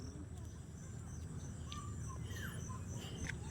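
Several short bird calls and chirps ring out over a steady outdoor background hum along a baywalk, fairly faint and scattered.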